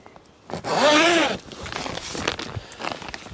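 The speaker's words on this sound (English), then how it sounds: "This is the first time we've opened the zipper." The zipper on the door of a small mini greenhouse is opened in one loud, rasping pull lasting under a second, followed by softer rustling and handling sounds of the plastic cover.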